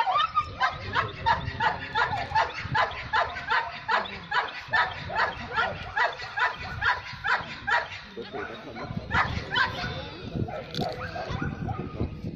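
A trained guard dog barks in steady, rapid bursts during a demonstration show, loud and close, with someone talking over the barking throughout.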